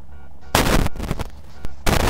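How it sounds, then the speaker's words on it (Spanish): Loud explosive blasts from GTA San Andreas gameplay, several sharp broadband bursts in quick succession, close and heavy, with brief gaps between them and no talk over them. "Explota y todo."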